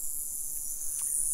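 Loud, steady high-pitched chirping of insects, likely crickets, fills the outdoor air behind a lifted Chevrolet Silverado Z71 4x4, continuous and close with no break.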